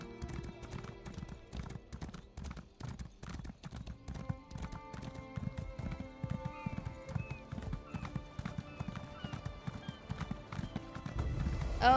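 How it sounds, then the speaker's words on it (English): Steady, rapid hoofbeats of a galloping horse in the video game The Elder Scrolls Online, with game-like ambience and occasional chimes, continuous and fairly close throughout. "I have a horse. Come on, horse."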